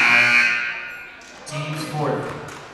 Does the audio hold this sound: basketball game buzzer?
yes